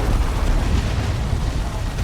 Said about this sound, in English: Orbital bombardment went off from...